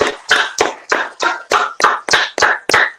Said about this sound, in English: Let's clap him up, y'all.